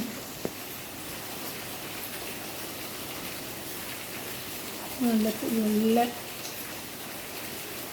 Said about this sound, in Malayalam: മഴയൊക്കെ തുടങ്ങി